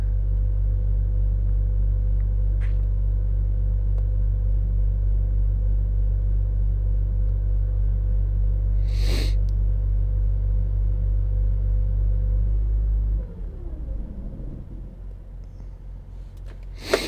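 A car drives along a road, its steady low rumble holding for about thirteen seconds before dropping away to a quieter, uneven murmur, with a brief click partway through.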